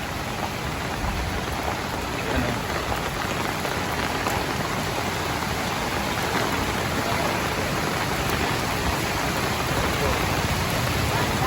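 Heavy typhoon rain pours steadily over a flooding village road while runoff water flows down from higher ground, a constant dense roar with no pause; a voice briefly speaks once amid it.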